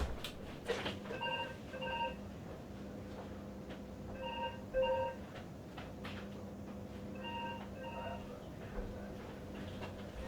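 A telephone rings during a live stream, with three pairs of electronic ring bursts spaced apart, fairly faint beneath background noise and low talk.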